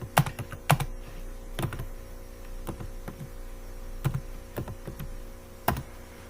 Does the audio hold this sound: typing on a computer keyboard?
yes